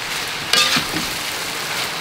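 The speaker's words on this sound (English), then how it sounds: "Ah, it's raining again." Steady rain falls continuously throughout, a broad even patter with a brief louder spatter near the start, heard without any talking.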